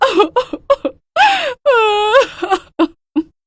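A woman wails and sobs loudly and close by, with drawn-out moaning cries broken up by short choked gasps.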